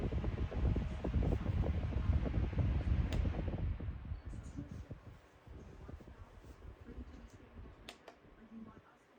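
Mechanical fan with yellow blades spinning down, a broad whooshing rush loud at first that fades gradually over several seconds into faint airflow.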